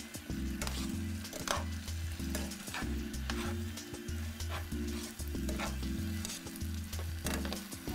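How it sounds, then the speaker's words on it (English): Shrimp and vegetable spaghettini in an Asian-style sauce gets tossed with tongs in a hot pan, with steady sizzling under repeated rhythmic stirring and clattering strokes, close up and without talk. "I'm gonna use the tongs. It's much easier to cook with your pasta. Toss this together."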